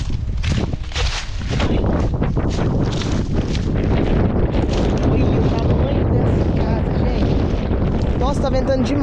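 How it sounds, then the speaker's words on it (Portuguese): Strong outdoor wind buffets the microphone outside a house, a loud continuous rumbling roar throughout, with people talking underneath. "tá ventando demais, demais."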